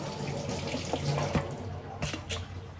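Tap water runs steadily over grapes being washed in a sink, a close continuous splashing stream with a few brief clatters.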